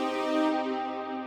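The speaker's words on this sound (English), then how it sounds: "I also went ahead and I added a brass to the chorus." A bright sustained brass section holds a chord in the chorus of a bouncy 2000s-style produced beat, steady and full without breaks, no voices over it.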